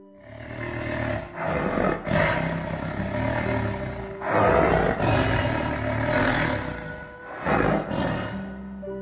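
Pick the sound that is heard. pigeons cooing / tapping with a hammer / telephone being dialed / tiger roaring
tiger roaring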